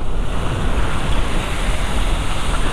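Heavy rain during a ride on a Voltz EV1 electric motorcycle, a loud, steady broadband roar of rain and rushing wind buffeting the microphone, continuous with no pauses and no voices.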